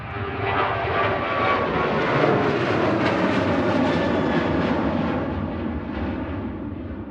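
Ryanair jet taking off at Manchester Airport, a loud sustained engine roar that swells and holds steady across the whole stretch, with broad rumble and hiss and no voices.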